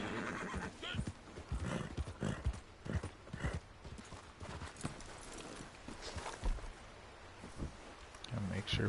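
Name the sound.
horse neighing and hooves in a video game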